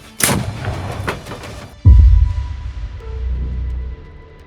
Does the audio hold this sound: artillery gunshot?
yes